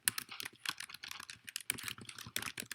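Rapid clicking of a computer keyboard as code is typed, with an uneven rhythm of short bursts and brief pauses, close and fairly quiet, with no talking.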